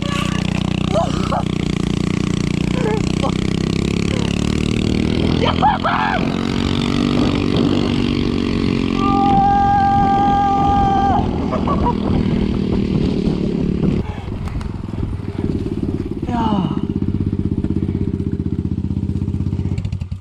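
Brand new enduro dirt bike being ridden, its loud close engine droning and revving with pitch shifts and throttle changes throughout, and people talking and shouting over it.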